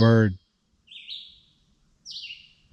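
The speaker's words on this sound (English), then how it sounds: "birds are still beautiful. I just love listening to" A brief bit of voice cuts off, then two clear, high bird chirps ring out alone on the Appalachian Trail, spaced about a second apart.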